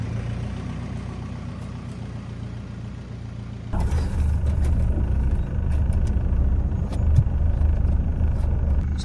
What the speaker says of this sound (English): I'm going to have to do some four-wheel driving in reverse.